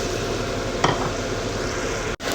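Chopped onion fries in hot oil with a steady, even sizzle that hisses continuously at moderate loudness, broken by a brief clack near the middle and a sudden momentary drop just before the end.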